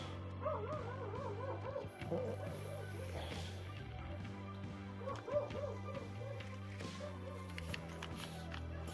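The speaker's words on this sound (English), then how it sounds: "Fucking dog." A dog barks and yips in repeated short bursts at a distance, faint over a steady engine-like hum beside a Land Rover Freelander 1 TD4 under brake pipe repair.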